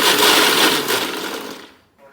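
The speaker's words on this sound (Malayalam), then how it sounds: "ഈ ചോറിന് ഞാൻ മിക്സിയിൽ ചെറിയ ജാറിൽ എടുത്തിട്ടുണ്ട് ഇനി ഇതിനെ അരച്ചെടുക്കുകയാണ് വേണ്ടത്" Leftover rice ground dry in the small jar of a kitchen mixer grinder, a loud whirring roar that runs steadily, then winds down and stops near the end, with no talking.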